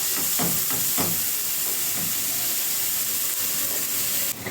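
Onion frying in a pan for a tagine, a steady loud sizzling hiss with a few crackling pops near the start, close and continuous with no talk.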